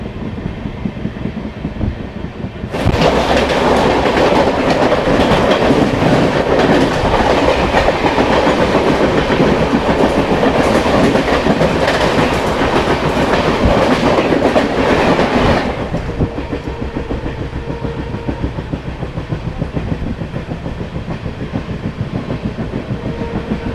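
Kolkata Sairang Express passenger train running on rails along a scenic North East Frontier Railway route in Assam, a loud steady rumble with rhythmic clickety-clack of wheels over rail joints, rising sharply, holding for about thirteen seconds, then dropping to quieter running noise.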